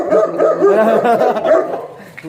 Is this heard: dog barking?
yes